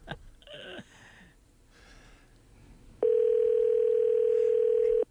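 A telephone dial tone sounds steadily for about two seconds, loud and continuous, after a short stretch of faint talk and quiet room noise.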